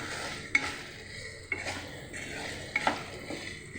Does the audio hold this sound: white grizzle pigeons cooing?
no